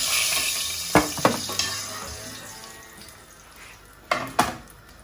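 Browned osso bucco veal pieces lifted out of a frying pan, with a few sharp metal clanks of utensil against pan over a low background sizzle, then a quieter stretch before two more clinks.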